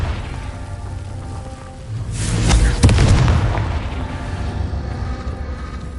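Confringo spell from Hogwarts Legacy erupts in a single deep booming blast midway, with a sharp crack at its peak and a rumbling tail that fades back to low ambience.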